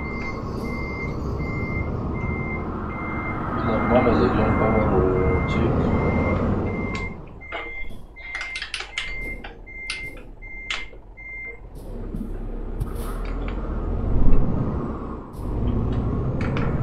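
Truck reversing beeps from Euro Truck Simulator 2 sound as a steady run of evenly spaced tones over the engine rumble for several seconds, then pause while someone speaks in Russian.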